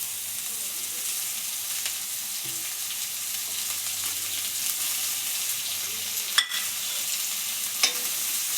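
Chopped green amaranth sautés with onions in a pan, making a soft, steady background sizzle with occasional stirring and two sharp clinks of a utensil.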